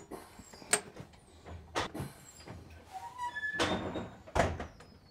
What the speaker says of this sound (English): both doors will close.